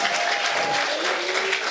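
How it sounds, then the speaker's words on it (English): An audience at a principals' seminar applauds the Witbank High School choir, with a short burst of dense, even clapping and a faint voice running underneath. "Let's give them a big round of applause."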